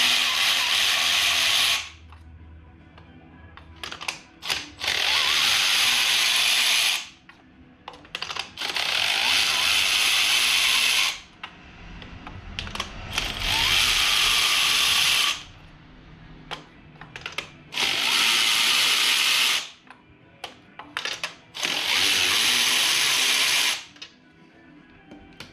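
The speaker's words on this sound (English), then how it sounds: "now we can use a power tool" A power tool spins out the loosened spark plugs of a BMW E46 engine in about six bursts of buzzing, ratcheting whir, each lasting a few seconds, heard up close with short pauses and faint clicks between them.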